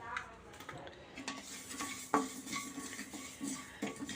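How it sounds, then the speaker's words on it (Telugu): Mustard seeds crackling in a pan while making mango-ginger avakaya pickle, faint sizzling with small pops and a few clinks of a spoon against the pan. "ఇప్పుడైతే ఆవాలు కూడా వేసేద్దాం."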